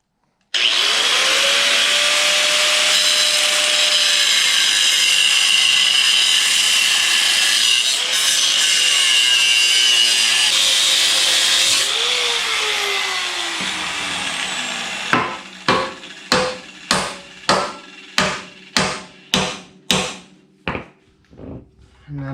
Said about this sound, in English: gonna start grinding away at the welds